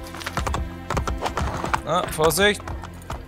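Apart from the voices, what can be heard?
horse hooves clopping in video game Assassin's Creed Brotherhood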